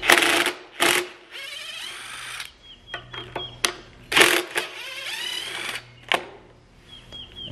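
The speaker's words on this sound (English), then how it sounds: "So you're going to take a wrench, and there's two bolts right here" Tool work on the carburetor of a Honda GCV 160 lawn mower, close metallic clicks and ratcheting bursts in irregular spurts, with rattles of parts being handled and no talk.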